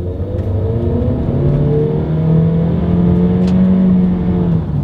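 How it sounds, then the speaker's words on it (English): The engine of a 2021 Honda CR-V SUV climbs steadily in pitch as it accelerates hard, a close and continuous drone building through the run. "let's see how quickly we can get this new 2021 Honda CR-V here up to speed"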